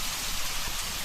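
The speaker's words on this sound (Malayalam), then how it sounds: "അത്രയുള്ളൂ ദുബായിലെ മഴ." A brief burst of rain falling in Dubai, a steady, dense, even patter with no other sounds.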